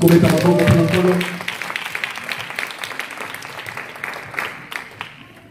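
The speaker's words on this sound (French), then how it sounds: "Est-ce qu'on peut acclamer le Seigneur?" Congregation applauding the Lord at a church wedding in Paris, loud clapping and cheering that opens with a voice and gradually thins and fades.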